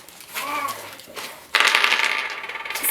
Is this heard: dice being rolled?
yes